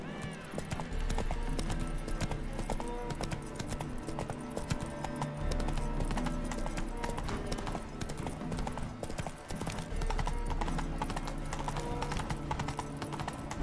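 Horse hooves clip-clopping at a gallop in The Witcher 3, a steady pounding rhythm that runs through the whole stretch with an occasional whinny and game sounds layered over it.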